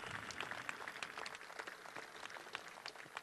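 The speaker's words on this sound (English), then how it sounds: "A nice round of applause for our volunteer organizations," A luncheon crowd gives a round of applause to volunteer organizations, dense overlapping clapping from many people that holds steady and fairly faint across the whole stretch.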